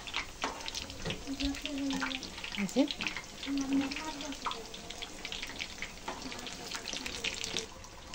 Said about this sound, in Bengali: এভাবে সব কটা দিয়ে আমি ভেজে নেব